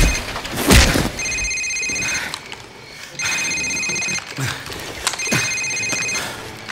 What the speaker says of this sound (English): Sir, it's his cell phone.